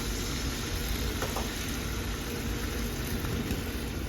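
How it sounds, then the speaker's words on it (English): White wine hits a hot pan after chicken has been cooked in it, giving a steady, even sizzling hiss with no talking. "go ahead and deglaze with the white wine"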